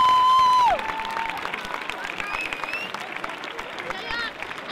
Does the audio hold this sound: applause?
yes